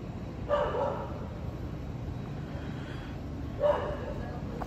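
Outdoors at night near a street food stall in Yuli, Taiwan, a small street dog lets out two short, sharp barks a few seconds apart over steady low background noise.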